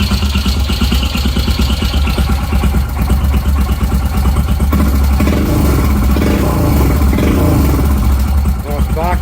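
A Royal Enfield Himalayan motorcycle fitted with a Himalayan-Tools HT-b performance camshaft and an aftermarket Delkevic exhaust idles steadily nearby, a loud continuous lumpy beat throughout, with some talk over it.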